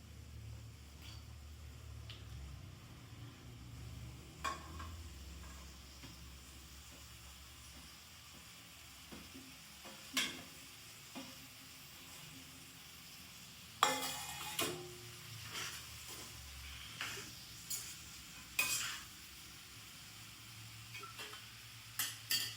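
Ridge gourd sizzles and fries in a pan while a utensil stirs it, giving scattered scraping and clinking accents over a steady low sizzle, close and moderately quiet, with no talking.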